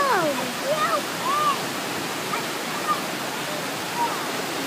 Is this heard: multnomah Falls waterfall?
yes